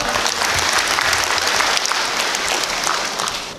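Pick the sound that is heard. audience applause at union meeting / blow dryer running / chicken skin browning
audience applause at union meeting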